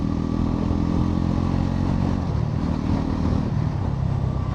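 A Bajaj Pulsar NS 400Z motorcycle being ridden, its engine droning loudly and steadily close by, with the pitch dropping midway as it downshifts, wind rumble throughout.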